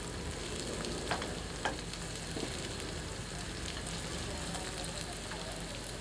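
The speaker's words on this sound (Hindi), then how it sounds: "इन्हें 3 से 4 मिनट मध्यम आंच पर भूनते हैं ताकि ये थोड़ी सी पारदर्शी दिखने लगे।" Chopped onions frying in a pan over medium heat for a black pepper chicken curry, a steady, even sizzle throughout with a couple of faint clinks, no voices.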